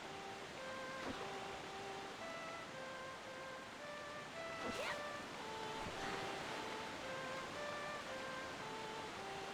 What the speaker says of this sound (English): Face the waterfall again.